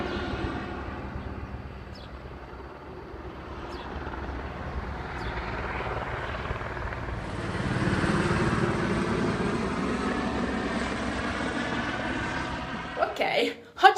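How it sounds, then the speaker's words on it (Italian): A helicopter passing close by, its low rotor thrum and engine drone swelling louder midway and holding steady, with faint voices and a few clunks near the end. "oggi abbiamo l'elicottero qui, cioè è vicino"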